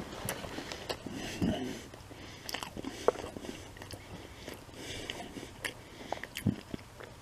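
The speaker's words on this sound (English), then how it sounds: "Let's try the French fries first." McDonald's French fries eaten close up, with crisp crunching bites and wet chewing in irregular bursts and no talking.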